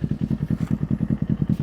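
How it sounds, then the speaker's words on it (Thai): A 2018 Kawasaki Ninja 400 SE two-cylinder motorcycle engine idles close by with a steady, throbbing putter, evenly pulsing beats with no revving. "อันนี้เป็นเสียงเดินเบากันละกันนะครับ"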